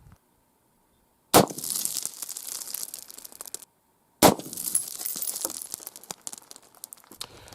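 A .223 round fired from an AR pistol into a steel-toe leather boot: two sharp, loud reports a few seconds apart, each followed by a rattling, crunchy tail of debris and handling noise, close by with no talk.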